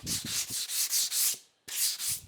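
Repeated rasping strokes of sandpaper removing burrs from wooden pantry pullouts, close and loud, in a steady back-and-forth rhythm with a brief pause before resuming.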